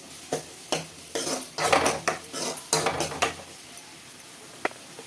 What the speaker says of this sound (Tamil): சின்ன வெங்காயம் போட்டு ஓகே, வெங்காயம் போட்டாச்சு. கிண்டி விட்டுக்கணும்.